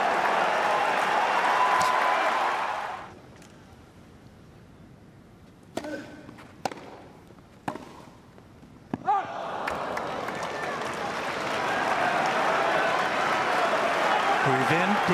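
Large Wimbledon crowd at the 2019 tennis final breaks into loud, sustained applause and cheering at the start, fades into a quiet stretch with a few sharp hits and voices, then swells again into another broad wave of clapping.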